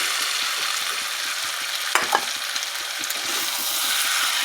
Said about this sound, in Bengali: আলু দিয়ে কিছুক্ষণ কষিয়ে দিলাম।